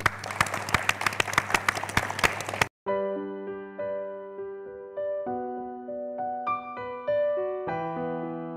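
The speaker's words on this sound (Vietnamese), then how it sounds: "Chúng ta cùng dành một tràng vỗ tay nho nhỏ để chia sẻ với Nấm" Brief applause from a small group on a dating show, a few seconds of close clapping that cuts off abruptly, followed by soft music.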